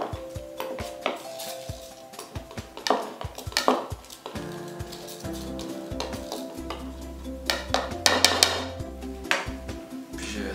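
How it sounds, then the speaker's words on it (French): Yeast is stirred into flour in a bowl with a utensil, giving repeated scraping and clinking strokes at an irregular rhythm, close and moderately loud over a low steady hum. "toujours on mélange la levure dans la farine"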